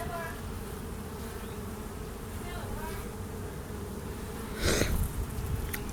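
Steady droning buzz of many honeybees on a hive frame close by, continuous throughout, with a brief louder rustle near the end.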